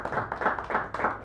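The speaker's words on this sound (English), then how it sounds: "Give him a nice round of applause for him." An open mic audience at a poetry cafe claps in a short, uneven burst of hand claps that rises and falls in pulses, fairly quiet and close by.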